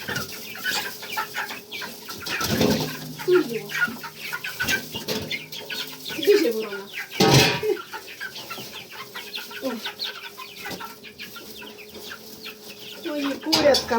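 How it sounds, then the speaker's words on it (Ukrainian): Roosters and chickens in a farmyard clucking and crowing at a distance, with a few wing flaps, while people talk quietly in between. "Ті самі півні, так? Саме півні."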